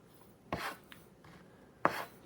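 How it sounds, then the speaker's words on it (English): A kitchen knife slices rolled gnocchi dough into small pieces, giving two crisp, separate chops against a board about a second apart, close and fairly quiet with no voices. "once you get to a right consistency or thickness that you want, cut it about an inch, half an inch, 3/4 of an inch"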